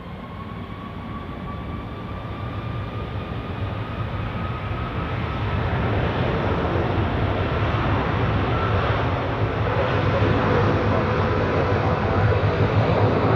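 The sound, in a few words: airplane taking off from runway 28, Zurich Airport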